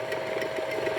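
A car drivetrain with the gearbox just shifted into first gear, running as a steady, close mechanical hum with a faint rhythmic pulsing and no voices.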